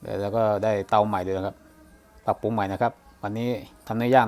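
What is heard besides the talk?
No everyday noise stands out behind the speech.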